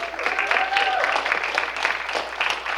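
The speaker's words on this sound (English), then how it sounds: "You can clap for all." Audience clapping after results are announced at a competition, a moderate, fairly even patter of hands that sits under a voice speaking and a brief tonal sound partway through.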